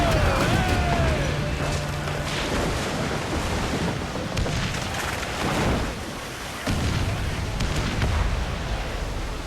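Ship cannons boom in a naval battle in the pirate game Assassin's Creed IV Black Flag, heavy dull blasts rolling over wind and sea noise, with shouted commands and crew voices mixed in.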